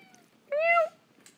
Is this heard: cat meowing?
yes